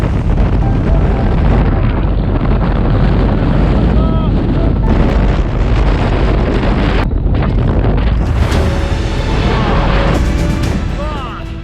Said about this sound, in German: Also so starken Wind habe ich eigentlich schon lange nicht mehr erlebt.